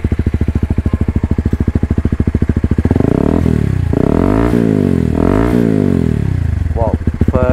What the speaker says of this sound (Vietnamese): Tiếng máy êm ru.